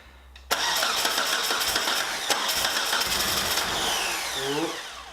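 A Mitsubishi 4G64 engine cranks briefly, then catches with a sharp bang and settles into a loud, rough, steady idle, heard up close, with the revs wavering slightly toward the end.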